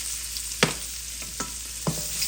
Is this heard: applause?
no